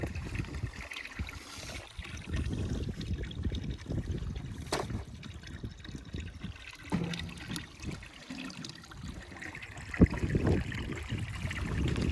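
Water trickling from a spring at a consecrated roadside cross, a steady low watery babble running continuously and fairly near, with faint outdoor background and no talk.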